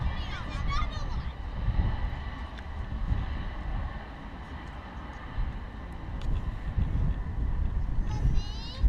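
A jet airliner lands at London Luton Airport with its engine reverse thrust deployed, giving a steady broad roar that holds for several seconds at moderate distance, with brief higher whines near the start and the end.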